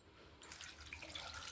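Water pours into a pressure cooker holding washed potatoes and salt, a soft trickle that swells into a steady splashing stream after a quiet start.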